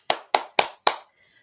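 Four single hand claps in a baby music class, evenly spaced and close, each crisp and distinct, followed by near silence.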